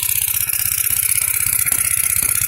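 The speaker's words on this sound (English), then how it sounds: "The only way to stop it is to shut off the fuel. Put your hand over the fuel tank and close the fuel off on the carburetor." A Briggs & Stratton model Y engine running loud and close, its rapid even chugging firing pulses steady through the clip while the fuel is shut off.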